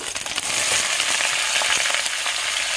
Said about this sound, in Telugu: ఇప్పుడు ఇందులో మనం ముందుగా కట్ చేసి పెట్టుకున్న టమాటా, ఉల్లిపాయ, పచ్చిమిర్చి ముక్కలు మొత్తం వేసుకొని